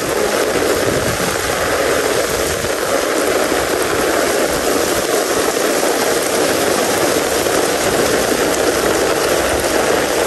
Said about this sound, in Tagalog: Grabe, lakas na ulan.